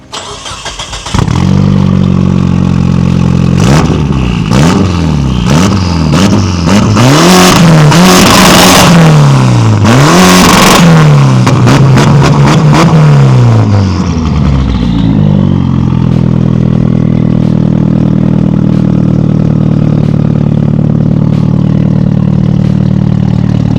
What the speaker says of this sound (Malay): Dengar exhaust.